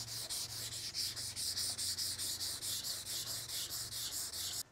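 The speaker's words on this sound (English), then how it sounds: "Take your time on the block sanding, keep sanding until the guide coat is all gone." Rhythmic back-and-forth block sanding of a car bumper with guide coat, a quick steady series of gritty rubbing strokes close up with no voices.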